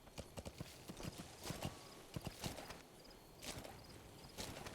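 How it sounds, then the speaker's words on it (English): Horse hooves clip-clop in a steady walking rhythm, faint and fairly close, with soft background ambience, in the video game Metal Gear Solid V: The Phantom Pain. "That lets you ride your horse"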